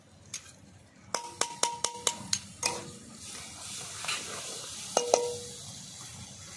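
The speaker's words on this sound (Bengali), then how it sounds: "পেঁয়াজটা একটু লাল করে ভেজে নেওয়ার পরে একটু দিয়ে দেব রসুন বাটা" Chopped onion fries with garlic paste in a pan, with a quiet steady sizzle under a quick run of sharp metallic taps and scrapes from a utensil against the pan, and a few more clinks near the end.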